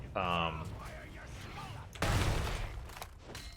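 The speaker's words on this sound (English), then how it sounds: "they start firing cannons" Cannons in the Heroes of the Storm video game fire at forts, giving two heavy booming blasts with rumbling tails. The second blast is louder and spaced well after the first, and game sounds play in the background.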